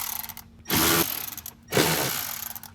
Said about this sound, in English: Now we're going to remove these 3 screws that are holding in the speaker bracket.